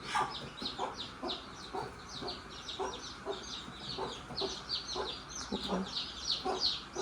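Small chicks peep and chirp steadily in a winnowing tray swirled over a hearth stove, a dense run of high cheeping calls close by with some faint cluck-like lower notes beneath.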